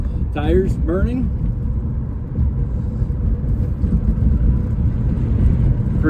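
A 1936 Ford restomod pickup with a 6.2 LS3 engine burns its tires, a loud steady roar and rumble with a short squeal early on, held up close throughout.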